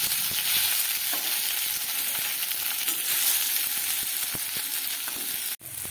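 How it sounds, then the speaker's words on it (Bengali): Spicy puli pitha, a Bengali stuffed dumpling, sizzling steadily in hot oil in a pan, a loud continuous crackle with small pops throughout and a brief dip near the end. "সাইডে সাইডে আরও জায়গা আছে, তাই আমি আরও পিঠে দিয়ে দিচ্ছি"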